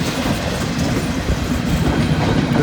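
A long freight train rolls past on the old B&O Railroad line on a cold, windy day, a loud, steady rumble with rhythmic clickety-clack of wheels over rail joints, close by and without voices.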